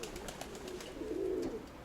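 Pigeons coo near a newly paired young dove and a last-year steel-coloured cock, one low rolling coo swelling softly over quiet bird chatter.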